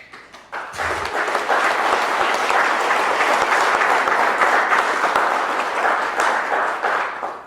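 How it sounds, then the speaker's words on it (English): A crowd at a mayor's State of the City address breaks into sustained applause, dense clapping swelling quickly and holding steady before easing slightly, with a brief voice just before it starts. "Thank you for the applause."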